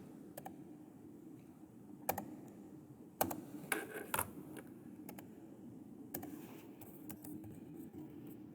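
Computer keyboard typing with scattered clicks and short bursts of keystrokes, close and moderately quiet over a steady low hum, no talking.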